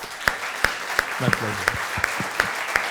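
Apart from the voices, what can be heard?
audience applause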